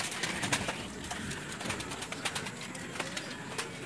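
Pigeons coo softly among scattered wing flaps and rustling as a few birds take off, with steady outdoor background noise throughout.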